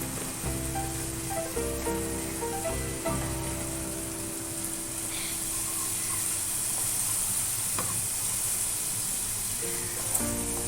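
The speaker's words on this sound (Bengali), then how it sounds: "একটু জল দিয়ে মশলাটা কষে নেব।" Spices sizzling and being stirred in a pan with a splash of water while making egg bhurji, a steady close frying hiss with faint scraping throughout, no talking.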